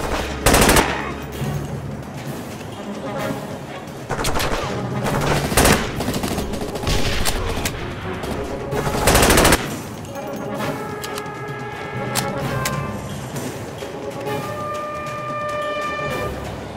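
Gunfire in the video game SAS Secure Tomorrow: loud, close bursts of automatic weapon fire, sharp single shots and rattling volleys, followed by sustained tonal game music with sporadic shots underneath.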